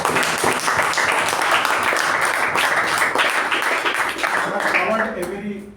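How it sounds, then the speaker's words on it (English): A room full of people claps in sustained, dense applause that holds steady for several seconds, then tapers off at the end. "let's give her again a thunderous round of applause"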